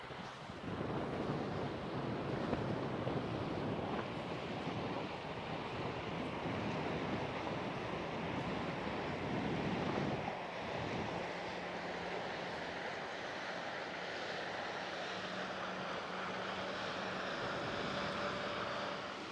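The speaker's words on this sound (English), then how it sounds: "when that silver boat passed, it created a wake" Waves from a passing boat's wake wash continuously against a river shoreline with gusty wind, and a faint low engine hum rises partway through.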